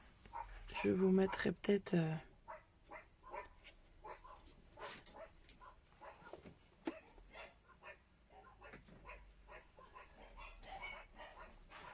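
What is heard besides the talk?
dogs barking at the mail carrier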